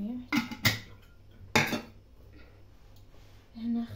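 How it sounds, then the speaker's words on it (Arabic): Dishes, pots and cutlery being washed in a home kitchen: a few sharp, close clinks and clatters spaced apart, with quiet rinsing in between. "نحاول نغسل هاد الماعن"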